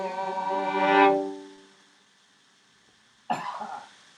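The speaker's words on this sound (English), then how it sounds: "I'm so sorry that you guys are sick and coughing." Two people coughing after a live folk performance: a singing voice fades out, then after a pause a single harsh, close cough bursts out and trails into a brief throaty rasp.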